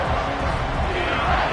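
A stadium crowd in a Notre Dame versus Wake Forest football video game roars on third down, a dense, loud wash of noise that holds steady throughout.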